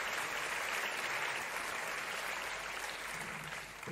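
Canned applause sound effect from a livestream automation program, a steady wash of many hands clapping that runs throughout at a low level.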